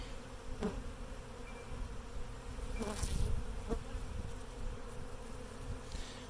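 Honey bees buzzing steadily around a Flow Hive as a new colony is installed, a close, continuous drone with individual bees flying past near the microphone.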